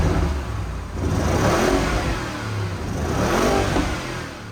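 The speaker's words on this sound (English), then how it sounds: "The beating heart of this monster is a 4-litre V8 twin turbo engine" A 2019 Porsche Cayenne Turbo with its 4.0-litre twin-turbo V8 and no exhaust particulate filter revs loud and close, swelling in two surges over a steady engine roar, with no talk.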